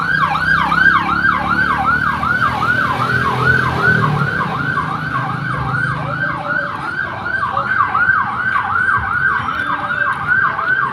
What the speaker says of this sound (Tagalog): Mga kaidol, may dumarang ambulansya.